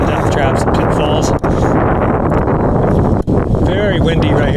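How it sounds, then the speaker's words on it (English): Strong gusts buffet the microphone on a hiking trail near the base of Rattlesnake Ledge cliff, a loud, rough roar of wind with brief lulls. "Very windy right here. Very, very windy."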